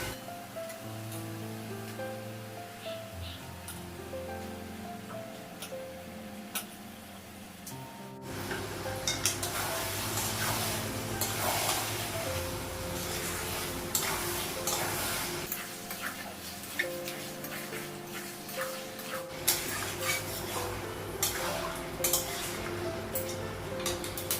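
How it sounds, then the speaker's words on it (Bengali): Meat being fried and stirred in spice masala, a steady loud sizzle with metallic clinks of the spoon against the pan after the meat goes in, continuing at close range. "মশলাটা ভাজা হয়ে গেছে মাংসটা লাগাবো"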